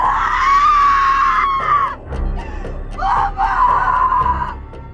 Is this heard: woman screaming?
yes